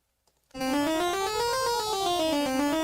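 A bright, buzzy synthetic tone runs up and down a 7-tone equal temperament scale in even, wide steps, loud and continuous for a couple of seconds.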